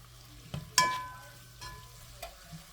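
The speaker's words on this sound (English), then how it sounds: "I'm going to go ahead and add in the all-purpose flour" All-purpose flour is stirred into hot fat in a pan for a quick weeknight dinner, with a few scraping strokes and knocks from the spoon over a soft steady sizzle and low hum.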